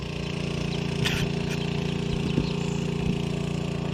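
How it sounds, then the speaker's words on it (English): Steady engine drone of an irrigation pump running an irrigation gun on a sweetcorn field, a continuous idling hum with faint mechanical ticks, heard from a moderate distance outdoors with no talk. "Got the irrigation gun going up there on the corn. Got the pump going."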